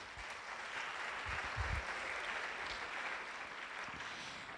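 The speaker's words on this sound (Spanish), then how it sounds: "Un aplauso para las modelos." Audience applause inside a church during a sermon, a soft, continuous wash of clapping heard from a distance at low volume with no voices over it.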